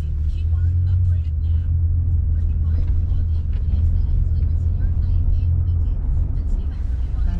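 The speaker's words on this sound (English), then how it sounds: "And look how much traffic." Dense road traffic rumbles continuously with cars passing close by in a steady, heavy low drone, heard from inside a vehicle.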